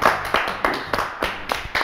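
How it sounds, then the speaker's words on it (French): Clapping for a guitarist on a live radio-style show: a small group claps in a slow, regular rhythm, about seven distinct close hand-claps with brief pauses between them. "On va l'applaudir quand même."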